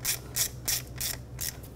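Ratchet wrench tightening an ignition coil bolt on a 2004–2009 Audi A4 Quattro 2.0L four-cylinder, five quick bursts of sharp clicking in an even rhythm, close and clear without talk.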